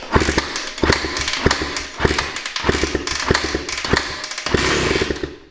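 An old Honda three-wheeler with a formerly rusted, stuck engine sputters and fires, rough loud bursts of small-engine running in uneven pulses, close by.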